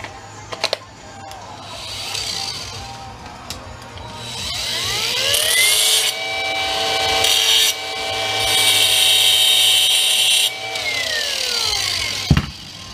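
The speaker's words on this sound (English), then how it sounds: "Let's give it the old grinder test." An angle grinder is tested on a heavy, non-magnetic stainless steel part pulled from a Brother Intellifax 770 fax machine. It spins up to a loud, steady rising whine with harsh grinding noise, then winds down near the end.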